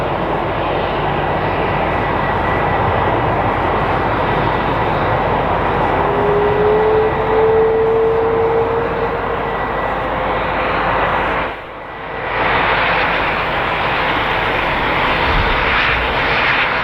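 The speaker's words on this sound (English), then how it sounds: "That's an ATR. Whose is it? Air Nostrum." An Air Nostrum ATR 72 turboprop roars at Madrid Barajas Airport, a loud, steady engine drone with a rising whine that holds for several seconds, dipping briefly before resuming.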